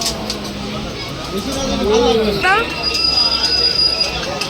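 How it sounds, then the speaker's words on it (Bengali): A special passenger train rumbles steadily along the rails near Ranaghat, with wheels squealing briefly partway through, loud and close, under faint talk. "এই ট্রেনটা হচ্ছে স্পেশাল ট্রেন।"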